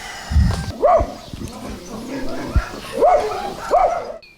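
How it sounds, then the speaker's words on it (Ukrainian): Abandoned dogs kept in a village yard bark in short, separate yelps and woofs, several spaced barks at moderate distance with some whimpering, over a background of voices and outdoor noise. "ми собак до себе позабирали і годуємо"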